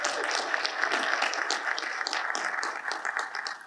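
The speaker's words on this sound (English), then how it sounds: "Let's give our mayor a round of applause." An audience at a summit panel discussion applauds the mayor, a steady, dense patter of many hands clapping continuously at moderate volume with no voices on top.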